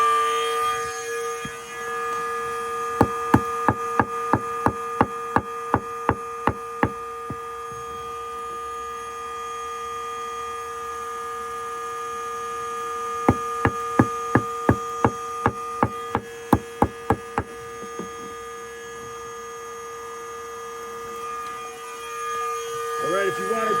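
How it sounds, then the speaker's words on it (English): A vacuum runs at maximum pressure collecting yellowjacket wasps from a house foundation, a steady droning hum with a constant tone, broken by bursts of rapid ticking clicks as insects strike the hose. "Let me know if you need more vacuum pressure."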